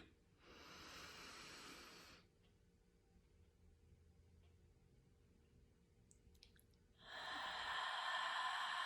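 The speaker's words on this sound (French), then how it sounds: "J'inspire." A slow, deep breath is drawn in during a guided breathing exercise, with a long airy rush near the mic, a quiet pause, then a second louder breath that swells and holds.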